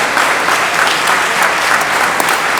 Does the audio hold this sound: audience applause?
yes